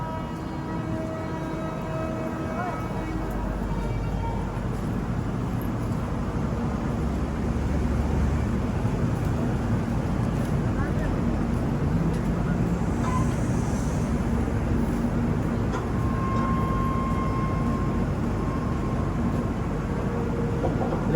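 Mangala Lakshadweep Superfast Express, Ernakulam to Hazrat Nizamuddin, pulling out of a station: a steady, broad rumble of rolling wheels and rail noise from on board, continuous and fairly loud throughout, with a faint horn-like tone near the end.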